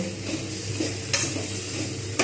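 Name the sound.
spinach ghonto frying with spices, stirred in a pan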